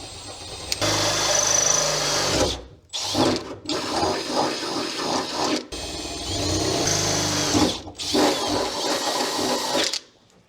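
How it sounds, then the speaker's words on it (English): A 10 millimeter drill bores holes for mounting a shifter adapter plate in a DC2 Integra Type R, running in long sustained whining bursts separated by short pauses, loud and close with no talk. "Now all I have to do is bring the 10 millimeter drill the holes"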